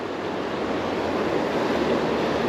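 Deep, fast river water rushes steadily past, a dense, loud, unbroken roar close by with no voices over it.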